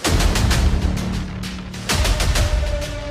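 Bursts of gunfire crack and boom in quick succession, with a brief lull before another volley of loud reports.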